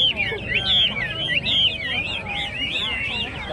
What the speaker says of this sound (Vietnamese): đó chính là một con chim họa mi